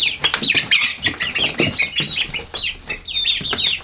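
A chicken flaps its wings in rapid flurries while being handled during winter chores, with sharp clucks and squawks woven through the close, loud, restless commotion.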